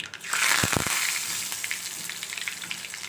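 Bay leaf, dried red chili, cloves and curry leaves dropped into hot oil for a Gujarati vegetable dish, bursting into a loud crackling sizzle that settles into steady frying with small pops, close up and without speech.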